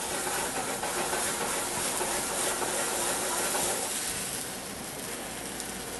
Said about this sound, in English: So we're going to burn that alcohol out of there.